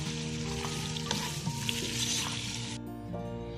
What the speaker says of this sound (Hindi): ये बस 2 मिनट इसको चला के और मैं इसको डिश आउट कर लेती हूँ।